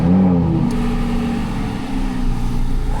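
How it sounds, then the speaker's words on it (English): From inside the cabin of a Nissan Skyline, a cold start: a rising whir as the engine catches, then a steady, loud, rumbling idle that fills the car. "let's do a proper interior cold start with the skyline in front"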